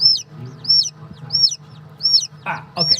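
Backyard chickens, hatchery or brooder birds, cluck and call close by in a steady run of short repeated notes over a low hum, with no talk.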